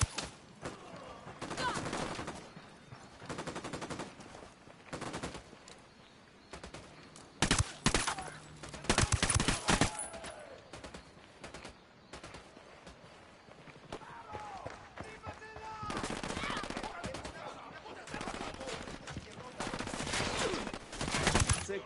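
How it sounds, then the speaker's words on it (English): Video game gunfire in Ghost Recon Wildlands comes in bursts of rapid shots and sharp cracks, some loud and close, with quieter gaps and scattered game sounds between volleys. "Opening fire on these fuckers."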